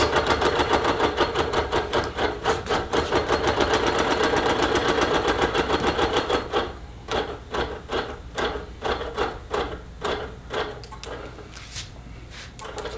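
A Q-Matic computerized longarm quilting machine stitches steadily across a quilt row with stitch regulation, a rapid mechanical chatter that runs continuously, then breaks into slower, spaced clacks toward the end, with no talk.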